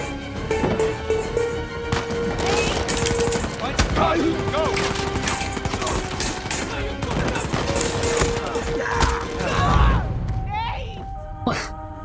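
Sustained automatic gunfire from the Uncharted 4 action game crackles loudly and steadily, with scattered thuds and a few grunts, while a person talks over the shooting.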